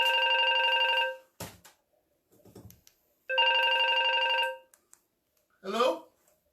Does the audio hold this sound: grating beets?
no